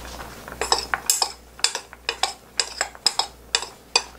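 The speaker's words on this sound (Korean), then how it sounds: "밀가루 한 스푼 넣어줄게요." Zucchini slices clink against a bowl as a spoonful of flour goes in, with around a dozen sharp, bright knocks of utensil on dish in a steady, close rhythm and no voices.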